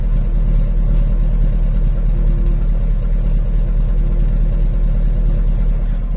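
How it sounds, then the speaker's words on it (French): A 2001 Mercedes S500 W220 with its 306 hp M113 V8 idles, its exhaust giving a steady, deep low burble that stays loud and even throughout with no talk. "Je vous laisse écouter un petit peu le bruit de l'échappement"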